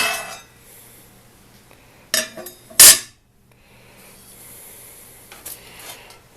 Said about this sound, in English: This is made by Lodge. It's called a combination cooker.